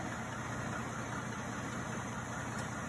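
A car engine idles steadily, a constant low mechanical hum heard close and without interruption, while the car's shock absorber is being adjusted.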